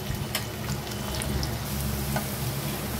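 Onion, garlic and green chillies frying in a pan give a steady, close sizzle and crackle throughout, with a low stove rumble beneath and no voices.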